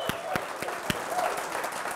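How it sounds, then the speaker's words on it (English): A studio audience applauds a talk show guest, a brief burst of scattered, fairly close claps over a low crowd murmur. "Put a big round of applause for her"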